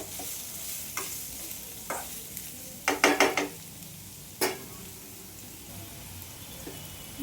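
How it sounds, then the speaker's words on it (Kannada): Radish palya (mulangi palya) being stirred in a frying pan, with a soft steady sizzle and a few sharp spoon scrapes and clanks against the pan, one brief cluster in the middle; no voices. "ಚೆನ್ನಾಗಿ ಈ ಥರ ತಿರುಗಿಸ್ಬೇಕು."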